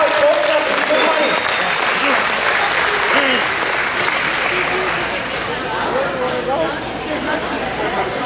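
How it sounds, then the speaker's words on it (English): An audience at a charity auction bursts into sustained applause, a loud wash of clapping mixed with chatter and a few raised voices. "Big round of applause, folks."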